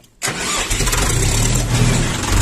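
A LOVOL 354 mini tractor's small four-cylinder diesel engine cranks and catches after a brief silence, then settles into a loud, steady, rattling idle close by.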